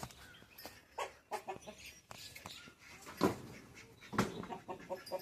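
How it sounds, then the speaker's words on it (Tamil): Guinea fowl perched on top of a cage gives repeated harsh calls in uneven bursts, moderately close, over a faint farmyard background. "இந்த கிண்ணி கொடி இன்னைக்கு என்ன ராவடி பண்ணுது பாருங்களேன்"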